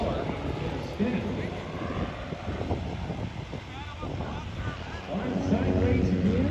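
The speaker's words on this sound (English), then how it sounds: "Small airplane there." A small airplane flies at the Lake Cumberland air show, its engine a distant drone under wind buffeting and talk from a crowd nearby.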